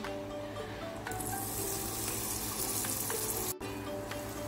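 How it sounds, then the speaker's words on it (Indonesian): Spice paste sautéing in hot oil in a wok gives a steady, fairly faint broadband sizzle that runs without a break, cut off for a moment near the end. "Sekarang akan saya tumis bumbu yang saya haluskan tadi."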